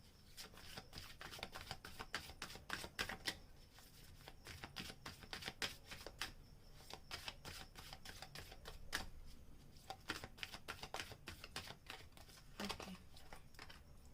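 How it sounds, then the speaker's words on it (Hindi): Tarot cards are shuffled and drawn from a deck, with rapid crisp riffling and flicking bursts continuing close and fairly quiet, then a few separate slaps and slides. "गाइडेंस कार्ड में सिर्फ एक ही निकालूंगी, जो भी कार्ड निकलेगा आपको उसके ऊपर काम करना है"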